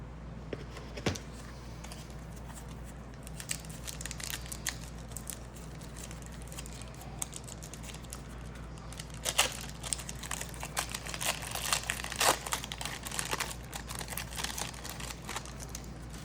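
Close, quiet crinkling and crackling of 1991 Upper Deck Football card pack wrappers being torn open and handled, with bursts of louder rustling in the second half and no talking.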